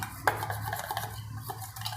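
Wafer bhajiya batter being stirred in a bowl, soft close scraping and swishing with a small clink of the spoon against the side, no talk.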